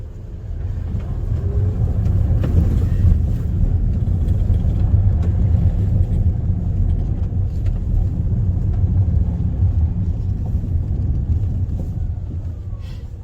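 A Rivian electric vehicle rolls off-road, giving a steady low rumble of tires and drivetrain that stays close and even throughout, with no voices.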